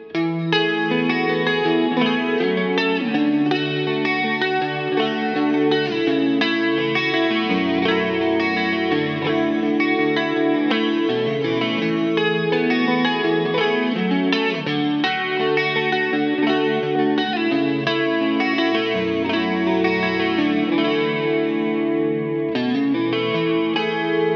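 Clean electric guitar chords from a Jazzmaster with a capo ring out with a shimmering CE-1 style chorus and spacious reverb, indie chords strummed steadily and alone for a long stretch.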